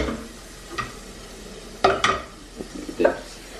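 Butter being stirred in a hot pan, a low sizzle broken by several scraping, clattering stirs of the utensil against the pan, close by and loudest near the middle.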